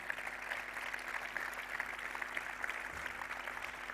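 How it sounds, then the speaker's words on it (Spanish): Audience clapping at a Navarre sports awards ceremony, a soft, steady patter of many hands heard from a distance, unbroken and fairly even, with a low hum beneath. "Un fuerte aplauso. Fuerte aplauso para ella."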